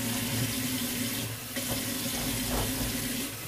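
Water runs steadily from a sink tap, a continuous close splashing stream with no talking over it.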